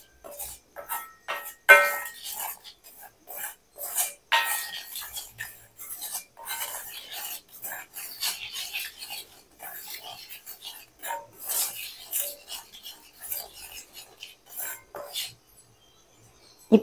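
Coconut oil being mixed into herbal hair dye powder, close rhythmic scraping and rubbing strokes repeating in uneven bursts with occasional light clinks of a utensil against a bowl, no talk.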